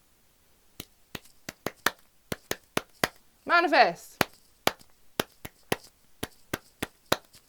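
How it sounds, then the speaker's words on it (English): Bare, cold hands clap in a slow, uneven series of sharp, close single claps, about two per second, with one brief spoken word partway through. "My hands are quite cold, so I can't clap that fast"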